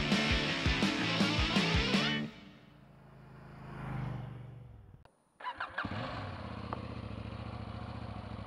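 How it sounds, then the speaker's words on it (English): A 2018 KTM 790 Duke motorcycle with a Kropovich exhaust revs hard in sharp, loud pulses, fades away, then returns with a burst of crackling revs and a steady close engine drone. "KTM 790 Duke with a Kropovich exhaust."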